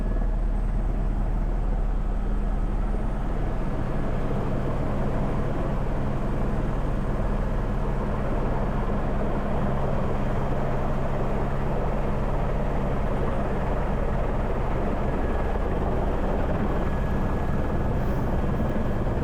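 A tour helicopter landing in Hawaii, its rotor and engine roaring loud and close in a constant thrumming drone that holds steady throughout, with no voices.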